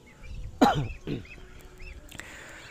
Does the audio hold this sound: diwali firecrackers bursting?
no